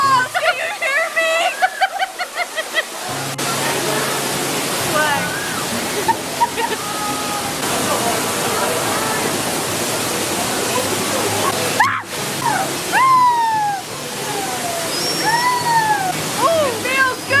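Rushing, roaring water from a waterfall-themed Niagara Falls ride at a theme park fills the whole stretch loudly and steadily, with splashy bursts, and excited voices talk and shout over it throughout.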